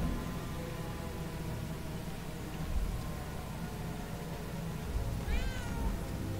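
A cat in the video game Murdered: Soul Suspect gives a short meow near the end over a steady hiss of background game ambience; no talking.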